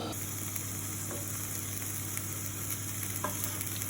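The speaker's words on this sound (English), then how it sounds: "We are adding in the pork, and we're going to let it start sort of browning." Pork browns in a pan for cassoulet, giving a steady close sizzle with a few faint clicks from stirring, and no talking.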